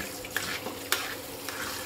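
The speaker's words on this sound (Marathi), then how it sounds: "मँगो शिरा बनवत आहे" Mango sheera being stirred while it cooks, with soft scraping and light clicking spoon strokes repeating quietly over a faint sizzling background.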